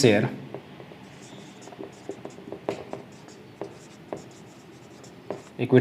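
Numbers being written on a board during an accounting lesson, a steady scratchy stroking with small taps between strokes, close and fairly quiet, with a faint voice starting and ending the stretch.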